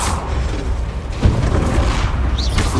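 Bombarda spell blasts from Hogwarts Legacy go off as dull booming explosions with rumbling low impacts, one sharp hit near the middle of a continuous noisy battle.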